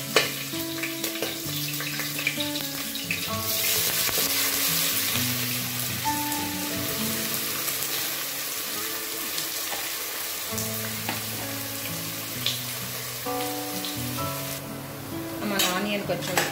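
Onion and green chillies frying in oil for biryani, a steady close sizzle with layered tonal background sounds and stirring throughout, a brighter burst near the end.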